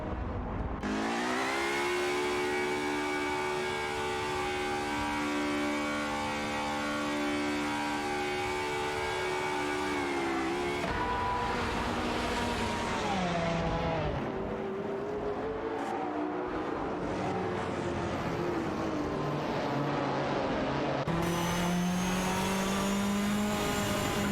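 Race cars in a racing video game drone and whine continuously at high revs, engine pitches rising and dropping through gear changes as cars pass and overtake one another, loud with no talk.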